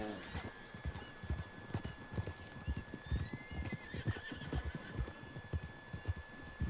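Horse from Red Dead Redemption neighs and snorts over a steady, rhythmic clip-clop of galloping hooves in the game, with game ambience throughout.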